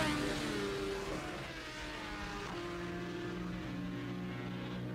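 Classic racing motorcycles roar past in a group at a race festival, several loud engine notes overlapping and sweeping in pitch as each machine passes close by, with no talking.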